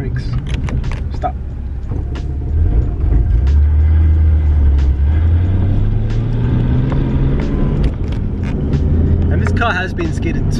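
An old, worn car drives along with a steady engine rumble and rising tones as it moves, slowing toward a stop near the end; people talk loudly over it throughout.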